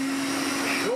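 A Hoover Constellation vacuum cleaner runs steadily with a loud, continuous motor whine and airy rush, its pitch holding level before rising slightly near the end.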